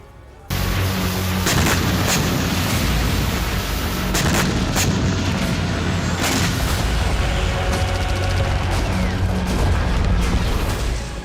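Artillery fire in a war zone near Kursk, with heavy booms and sharp blasts repeating at irregular intervals over a constant loud rumble, captured close and without talk.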